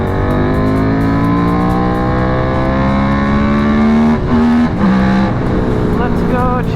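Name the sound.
Kramer GP2 prototype race motorcycle engine on racetrack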